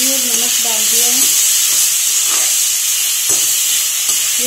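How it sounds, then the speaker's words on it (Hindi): Tomatoes with turmeric, salt and spices frying in plenty of oil for cucumber curry, a continuous close sizzle and hiss with faint scraping from stirring, and someone speaking briefly near the start. "ये थोड़ा सा टमाटर गले तब तक मैं इसको चलाते रहूँगी।"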